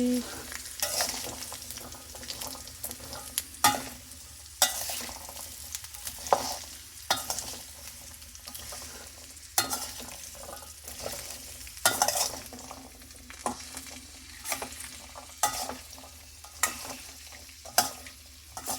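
Continuous sizzling from a pan of chickpea tempering while a spoon stirs and scrapes repeatedly, producing rhythmic scraping bursts over the frying hiss.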